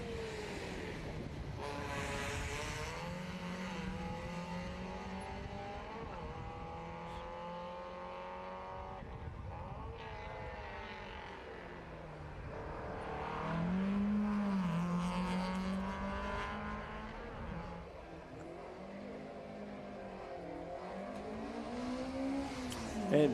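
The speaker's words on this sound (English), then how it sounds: "Rob Clippen leaves the start line now in the little Datsun 1600" A little Datsun 1600 race car pulls away from the start line at a grassroots historic sprint, the engine revving and climbing through gears and fading into the distance, with commentary running over it.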